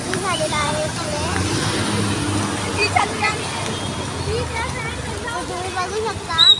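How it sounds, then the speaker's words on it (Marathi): Congested road traffic crawls along in heavy rain, a dense wash of engine hum, tire hiss and scattered horn beeps, with a person talking close over the busy street noise. "तुम्ही बघू शकता की पावसामुळे किती ट्रॅफिक झालेला आहे."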